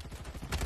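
Rapid gunfire crackles from a squad-based shooter video game match, a continuous rattling burst of shots with a louder cluster near the end, fairly faint and dense, with no talk over it.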